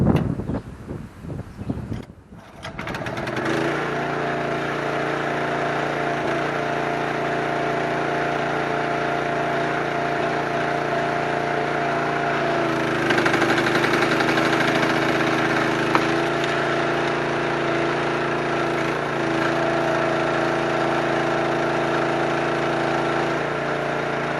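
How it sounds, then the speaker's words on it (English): A Benchmark 25 ton wood splitter's engine runs steadily outdoors after a few handling knocks at the start, a close, constant droning hum with a slight change in tone partway through, with wind noise and no talk. "Engine running."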